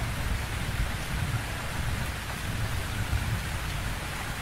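Dense rain in The Sims 4 pours steadily and evenly, a constant hiss of drops with a faint low rumble underneath and no voices.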